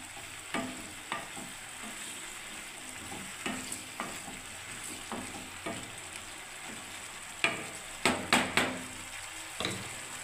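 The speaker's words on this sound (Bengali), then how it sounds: "পেঁয়াজ ক্যাপসিকাম দিয়ে সবজিটা আমি বানাচ্ছি" Onion and capsicum frying in a pan for a vegetable dish, a steady soft sizzle close by with periodic stirring scrapes and sharper clatters of a utensil toward the end, no voices.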